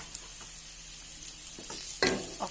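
Fennel seeds and turmeric powder sizzle softly in a frying pan, a quiet steady crackle with a brief louder hiss as the spices are stirred.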